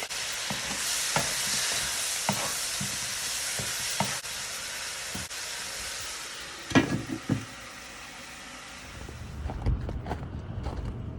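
Tomato sizzling and frying in a pan with onion, a steady broad hiss broken by clicks and scrapes of stirring, fading near the end to quieter low rustling.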